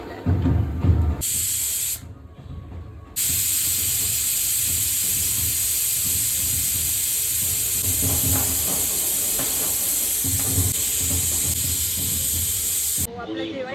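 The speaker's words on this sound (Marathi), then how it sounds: "व्यवस्थित मिक्स करून कुकरचं झाकण. आता ह्याला 3 ते 4 शिट्ट्या द्यायच्यात आपल्याला." A pressure cooker on a home stove whistles with a loud, steady, high steam hiss that runs nearly the whole time and breaks off briefly twice, with faint clatter beneath.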